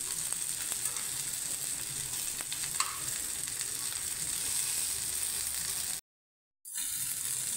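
Chicken pieces fry in a shallow pan with a soft, steady sizzle and an occasional faint scrape, heard close but quietly, cut by a short gap of silence near the end.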